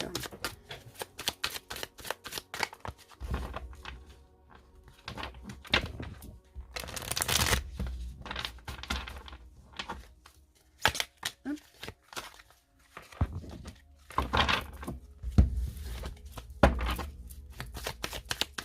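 Oracle cards are shuffled by hand in repeated quick riffling bursts with pauses between them, close and crisp, ending with a cut of the deck.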